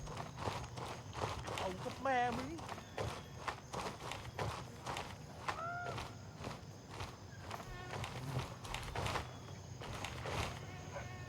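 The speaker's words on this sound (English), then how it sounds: "I'm hearing a lot of footsteps." Footsteps in the Gray Zone Warfare shooter game thud in a steady run of repeated steps throughout, mid-distance, with someone talking intermittently over them and small chirps in the background.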